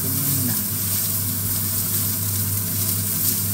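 Garlic frying in a pan with pork giniling, a loud continuous sizzle and crackle from start to finish, steady and close, with no talking over it.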